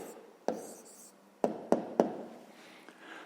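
A pen writes an answer by hand on paper, with soft scratchy strokes broken by a few sharp taps of the pen touching down, close and quiet, with no speech.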